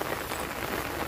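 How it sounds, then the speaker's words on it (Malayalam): Heavy rain pours down in a steady, dense hiss with no other sounds. "നല്ല മഴയാണ്"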